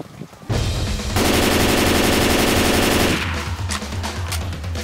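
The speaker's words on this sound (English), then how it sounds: "Do you hear my shots?" Rapid automatic gunfire in Left 4 Dead 2: loud, dense bursts of shots that swell into a sustained stream for about two seconds, then taper into scattered, echoing shots.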